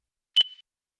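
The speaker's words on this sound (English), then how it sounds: "the LMSC1000 will beep when it reads an RFID tag" A single short electronic beep from a LiftMaster LMSC1000 long-range RFID reader on reading a tag, clear and isolated, with a brief ringing tail and silence around it.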